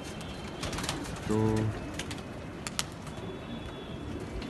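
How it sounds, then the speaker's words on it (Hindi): Pigeons in Lahore flap and flutter while one gives a short, clear cooing call partway through, over a soft outdoor background with a few sharp wing claps and faint sounds of people. "ये कबूतर उड़ रहे हैं सभी।"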